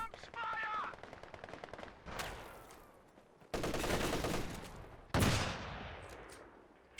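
Machine gun fire in the World War II strategy game Company of Heroes 2, heard as several sharp rattling bursts separated by brief pauses, fairly loud against a quiet background with no speech.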